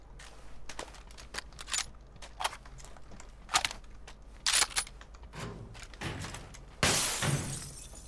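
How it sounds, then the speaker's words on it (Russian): Glass breaks in PUBG on the Taego map, a sudden bright shatter near the end, following scattered quiet clicks and thuds of in-game movement. "стекло разбилось"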